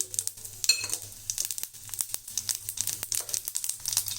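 Mustard seeds and cumin crackle in hot oil in a pan: quick, irregular pops and sizzles, fairly soft and close, with no voices.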